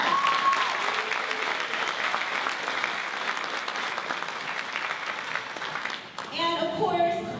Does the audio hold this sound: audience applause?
yes